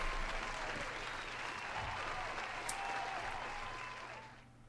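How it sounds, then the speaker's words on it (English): Sustained round of applause from a live audience playing a game event, steady clapping throughout and fading near the end, with faint talk underneath. "There's another round of applause for you"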